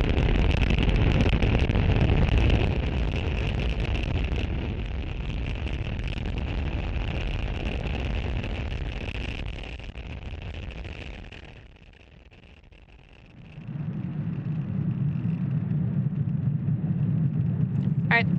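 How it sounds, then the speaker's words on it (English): Deep, sustained roaring rumble of a SpaceX Falcon 9 rocket lifting off from Space Launch Complex 40 at Cape Canaveral, Florida, with a Starlink satellite payload. The roar stays loud and continuous, dips briefly, then returns lower and steadier. "Falcon 9 has successfully lifted off from Space Launch Complex 40 from Cape Canaveral, Florida"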